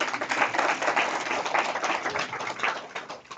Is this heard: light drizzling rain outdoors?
no